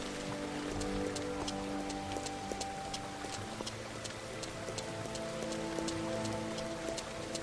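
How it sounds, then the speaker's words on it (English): Rain patters steadily on surfaces near a small dock in the farming video game Farmer's Dynasty, a dense, even hiss of drops with low background hums and no talking. "Do fish bite in the rain?"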